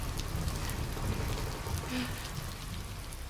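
Steady rain patters on surfaces in a trailer for The Last of Us Part 2, a soft, even hiss of drops with scattered tiny splashes and no talking over it.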